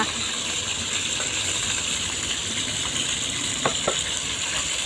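Pork hitting hot oil with garlic in a pan for a Thai pork and eggplant curry-paste stir-fry, a steady close sizzle with a couple of brief metallic scrapes partway through, no voices.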